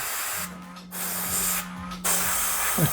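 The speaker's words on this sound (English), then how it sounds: "kind of go and spritz around a little bit to kind of tone this down" An airbrush sprays skin tone paint in two steady hissing bursts, each under half a second, close to the microphone over a constant low hum from the compressor.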